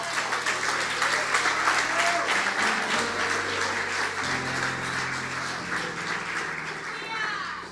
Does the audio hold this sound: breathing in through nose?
no